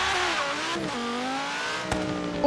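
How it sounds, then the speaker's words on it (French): A Lamborghini Sesto Elemento accelerating from a standstill in the racing game Forza Horizon 3, its engine note climbing steadily through the gears in a loud, close roar with a brief shift dip, no talk over it. "j'appuie sur l'accélérateur et je lance le chrono"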